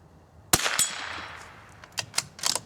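A single sharp crack from a vintage .22 rifle firing match ammunition, with a short ringing decay, followed by quieter mechanical clicks and clatter of the action.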